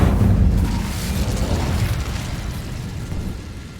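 A fiery Incendio spell blast in Hogwarts Legacy, a loud booming burst that rumbles and fades slowly over a few seconds, with no talking.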